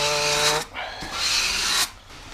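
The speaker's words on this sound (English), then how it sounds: "It's curved, so I'm gonna curve my sanding." Sandpaper rubbing over the curved steel chip breaker of a Stanley hand plane, two close, loud rasping strokes separated by a short pause.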